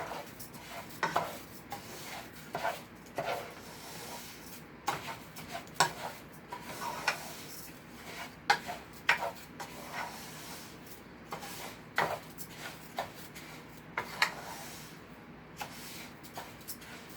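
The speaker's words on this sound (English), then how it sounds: "Just spread it around in the pan a little bit because it has to fry now." Rice stirred in oil in a frying pan: a spoon scrapes and clinks against the pan in soft, irregular strokes, fairly quiet and close, with no talking.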